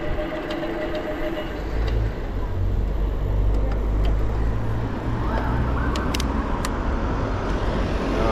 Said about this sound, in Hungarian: Jaj, gyertek, ez a nagy forgalom.